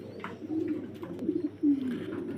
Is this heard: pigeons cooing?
yes